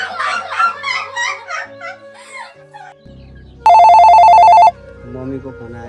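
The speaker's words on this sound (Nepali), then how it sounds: "मम्मीको फोन आएछ।" A telephone rings once in a Nepali home, a loud, piercing trilling burst lasting about a second, with people talking before and after it.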